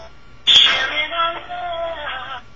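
A theme played as a phone ringtone, a short electronic melody of bright sustained tones starting abruptly and running about two seconds, clear and fairly loud with no talk.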